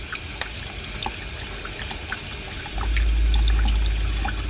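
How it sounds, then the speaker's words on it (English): Hot water runs from a tap in a skoolie bus conversion, a close trickling splash that swells into a heavier rush with a low rumble partway through. "Turn the hot water on."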